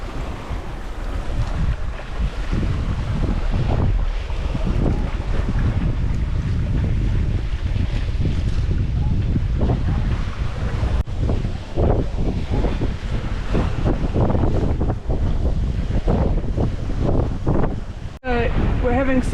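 A sailboat beats upwind in strong wind, around 26 knots, off New Zealand. Heavy wind buffets the microphone, and water rushes and splashes against the hull in a loud, continuous roar.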